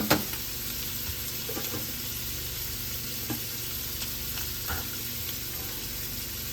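Bacon-wrapped filet mignon searing in a hot pan, a dense continuous sizzle with occasional faint pops and utensil taps, close and steady throughout.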